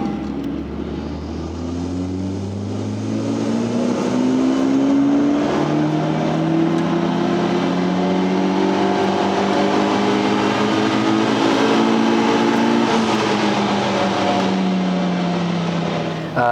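A Honda Civic Type R on a dyno with a stock Hondata calibration makes a loud, steady engine pull, its pitch climbing through a long sustained run before dropping back near the end, with no talking.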